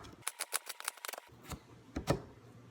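A knife cuts down through an onion on a cutting board, a fast series of crisp chopping taps followed by a few slower, heavier cuts, close and fairly quiet.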